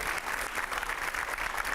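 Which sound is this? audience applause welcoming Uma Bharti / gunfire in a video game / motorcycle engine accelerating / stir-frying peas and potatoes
audience applause welcoming Uma Bharti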